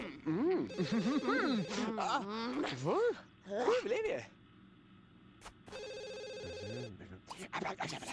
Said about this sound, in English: Oh, someone's calling.